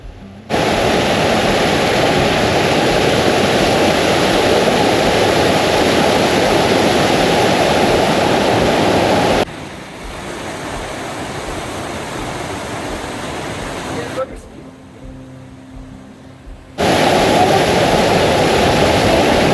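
Fast-flowing water at the Madhuganga waterfall near Kedarnath makes a loud, close, continuous roar that cuts to a quieter rush partway through, drops briefly to near silence, then returns at full force.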